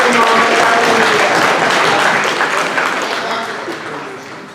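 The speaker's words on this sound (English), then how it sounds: "Let's give our photographer a round of applause for being there every moment of the year." Audience applause at a Lions Club centennial anniversary gala honoring the photographer, a dense sustained roar of clapping from a crowd that holds steady and then slowly fades toward the end.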